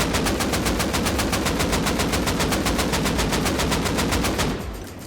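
An AK rifle in the video game Rust Console fires a long, rapid automatic burst of evenly spaced loud shots, close and sustained for several seconds before stopping abruptly and fading.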